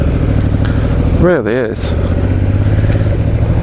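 A 2018 Honda Africa Twin with a DCT gearbox runs with a steady, loud motorcycle engine drone as it pulls away, and a voice speaks briefly over it.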